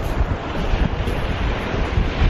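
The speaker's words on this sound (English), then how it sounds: "is it always really windy at a beach?" Strong wind buffets the microphone at an open ocean beach while waves surge and roar continuously, a loud, dense rumble with no voices.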